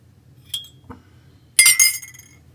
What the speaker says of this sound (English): this is the little eye cup that he'll be using, and it's glass.